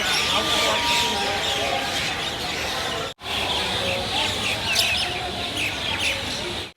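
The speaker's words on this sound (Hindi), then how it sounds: "यहाँ खड़े होकर ना चिड़ियों की चहचहाहट वाली आवाज़ सुनना सच में भैया दिल को सुकून देता है।" Dense evening birdsong fills Saharsa railway station in Bihar, a continuous chorus of many small birds chirping loudly and close, with brief pauses in the chatter.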